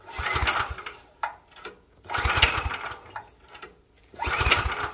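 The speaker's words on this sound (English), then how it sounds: "This is a big engine on a little cart." A bigger engine fitted to a small Manco Dingo cart sputters in three rough bursts, each a few seconds of loud uneven chugging separated by near-silent gaps as it tries to catch and run.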